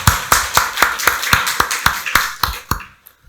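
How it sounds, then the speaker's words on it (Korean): Evenly spaced sharp taps, about ten in three seconds, ring out close and clear before fading to silence, sounding more like a rhythmic clap or tap than a full congregation applauding during a Sunday worship service in a Korean church. "박수로 하나님께 영광 돌리겠습니다"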